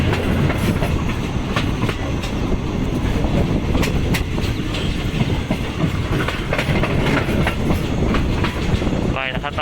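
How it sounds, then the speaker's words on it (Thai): A seven-car passenger train, number 447, is hauled by diesel locomotive 4414 on a Thai railway, with loud continuous rumble and rhythmic clickety-clack of wheels over rail joints, heard close from on board. "ขบวน 447 ยาวทั้งสิ้น7คันได้ดีเซล4414 ทำขบวนนะครับ"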